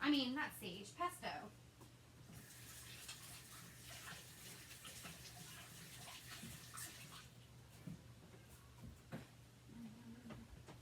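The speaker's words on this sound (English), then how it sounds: "I need to wash my hands." Hands are washed under a running tap, with a steady gush of water into a sink that runs through most of the stretch. A person talks over it at the start.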